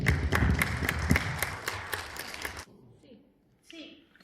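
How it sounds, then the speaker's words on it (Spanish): Audience applause greets a speaker at a Spanish-Peruvian library science and documentation seminar, dense clapping with sharp taps for about two and a half seconds before cutting off abruptly, followed by faint room noise and brief quiet voices. "Un fuerte aplauso, por favor."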